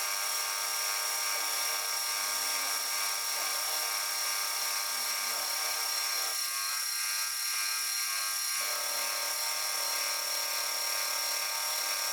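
A DIY metal shaper machine cutting metal while taking a workpiece down to thickness, giving a steady high-pitched mechanical whine with a tonal hum that shifts briefly partway through, continuous and close.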